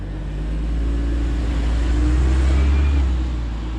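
An Audi R8 LMX with its V10 engine pulls away on the road, giving a steady, deep rumbling drone that rises gently in pitch as it accelerates, with no talking.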